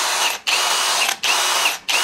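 A Dongcheng DCJZ03-13EM hammer drill runs at speed 2, giving a loud, close, steady high whine in three bursts separated by brief pauses.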